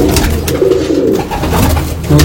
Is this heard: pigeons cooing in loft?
yes